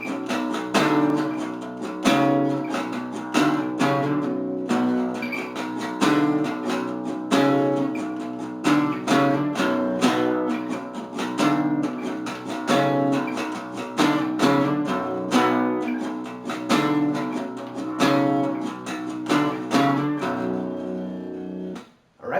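A guitar repeats an intro and verse riff over and over for about twenty seconds. Tight, rhythmic strummed chords and palm-muted chugs are played up close at a steady tempo, with no talking over them.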